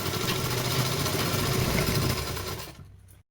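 A sewing machine stitching elastic into a ladies' pant, running in a fast, even mechanical rattle that slows and stops near the end, close and alone.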